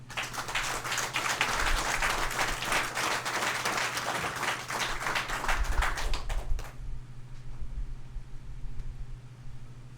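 Audience applause at a village council meeting, dense steady clapping that fills the room for several seconds, then fades to a quieter murmur of a hall as it dies down.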